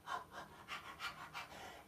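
A voice imitates a dog panting, shifting from a big dog to a little dog, with about six quick, soft, rhythmic breathy puffs close to the mic.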